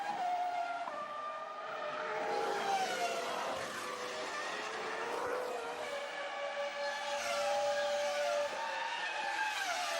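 Formula 1 cars racing at Imola in the San Marino Grand Prix, Alonso's Renault with Schumacher tight in its slipstream, their high engines whining and shifting pitch continuously at moderate distance, with a steady crowd-like roar beneath and no talk.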